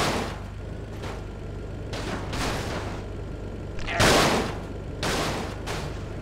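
Gunfire in the video game GTA Vice City, with repeated bursts and single shots popping over a steady low background hum, one louder close blast near the middle.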